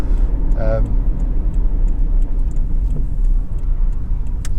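A Toyota Corolla 1.6 VVT-i T3 five-door automatic drives along, giving a steady low engine and road hum with a faint tick, while someone talks over it throughout.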